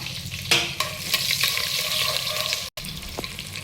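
Chillies frying in hot oil, the base for a raw jackfruit biryani, give a steady close sizzle while a spoon stirs and scrapes the pan, followed by a sharp clatter and a brief cut near the end.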